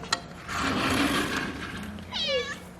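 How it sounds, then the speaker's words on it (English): A stray female cat meows at the door of a home after a stretch of soft background rustling and noise; a single clear, wavering meow rises and falls near the end, fairly close. "this cat just keeps popping in every now and then"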